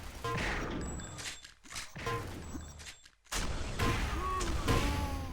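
Rockets fire in a mech fighting game, with loud whooshing launches and explosive bursts broken by brief gaps, then a dense barrage and mechanical clatter.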